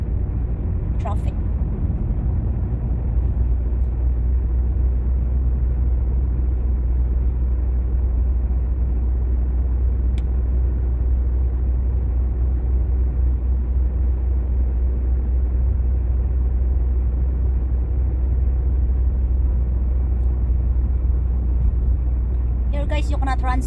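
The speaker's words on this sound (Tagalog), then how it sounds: "we are driving in the city, so we can only drive 50 km per hour" A car drives at a steady city speed limit of about 50 km/h through busy traffic on the way to a supermarket, its engine and road rumble forming a constant low drone with a couple of faint brief clicks.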